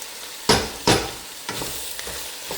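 Onions and vegetables for a vegan ramen sweat down in a pan, a steady sizzle broken by several loud stirring scrapes and clacks close by, with no speech.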